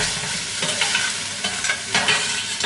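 A one-pot breakfast sautéing on a stove in Jamaica, an even close-up sizzle broken by a few scraping stirs of a utensil against the pot, with no voices.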